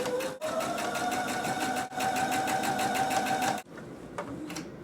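A sewing machine runs a simple straight stitch through non-stretchy fabric, a close, rapid steady rattle of needle strokes in two long runs with short pauses, then slower single stitches at the end.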